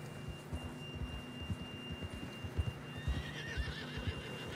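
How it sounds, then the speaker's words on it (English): A horse in the video game Red Dead Redemption 2 snorts and whinnies while its hooves clop in a steady rhythm over a low hum, the whinny rising clearly near the end. "The horse is getting mad."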